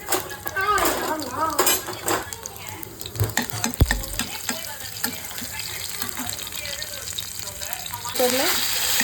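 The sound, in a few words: mustard seeds and garlic tempering in hot oil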